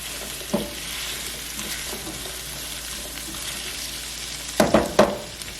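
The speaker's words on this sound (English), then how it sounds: "Just get them nice and coated. Mix them really well with the onions." Apple pieces sautéed with onions in a pan for a pork chop onion pan sauce, giving a steady close sizzle with soft stirring scrapes and a few sharp utensil clacks near the end.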